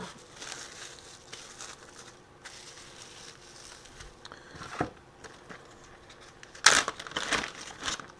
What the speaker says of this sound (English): Wrap it in plastic wrap.